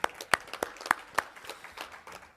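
Sparse applause from a small audience at a medical expert panel: a handful of distinct, fairly faint claps in an uneven rhythm rather than a full ovation.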